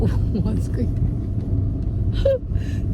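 Steady low rumble of a car moving along a road in Osaka, Japan, heard from inside the cabin, a continuous close engine and road drone with a voice and adults talking over it.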